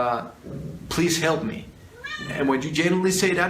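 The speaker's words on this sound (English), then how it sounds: "that's my cat" A house cat gives a couple of distinct meows under and between a person's ongoing speech, close and fairly loud.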